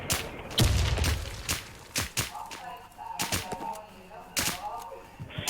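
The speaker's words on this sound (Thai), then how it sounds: "กูยิงใครวะเฮ้ยยิงมั่ววะ" Scattered gunshots in a video game ring out as sharp separate bangs at irregular intervals, mixed with game noise while someone talks excitedly.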